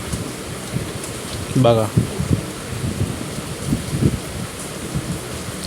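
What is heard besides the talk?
cold rain falling outside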